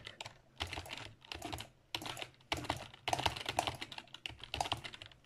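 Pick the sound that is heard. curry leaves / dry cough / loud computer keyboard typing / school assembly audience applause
loud computer keyboard typing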